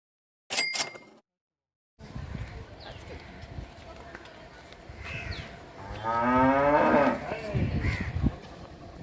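A cow on a street or field in Goa gives a loud, drawn-out moo partway through, nearby and clear, amid outdoor street noise with some talking.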